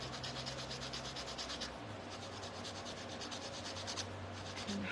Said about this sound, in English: And I'm gonna sand.